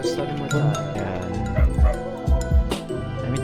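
Inside the horror game FNAF Eternal Nights, a dog barks with several low, punchy woofs amid dense game music and ambience.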